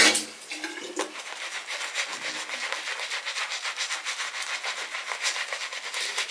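Water splashing and rinsing during a wet shave with a Merkur 37c razor and Grégory soap, a continuous close, hissy trickle with irregular small splashes and no voices.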